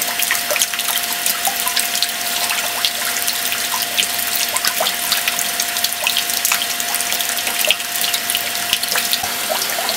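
Hot water, around 180 degrees, gushes steadily from an electric RIMS tube in a home brewing setup for sparge water, a loud continuous rushing flow with a faint steady hum beneath it and no voices.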